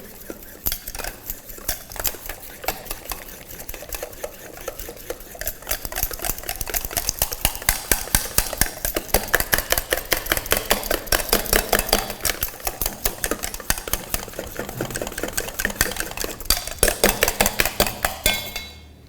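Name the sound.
stirring a tart filling mixture in a pan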